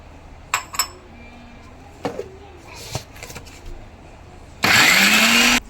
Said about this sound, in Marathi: याला आता मिक्सरमधून काढत आहे थोडं पाणी घालायचं हे बारीक व्हायसाठी